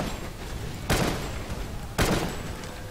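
Two loud, close bursts of weapon fire in Primal Carnage, spaced about a second apart, each a broad sharp blast over a steady background hum.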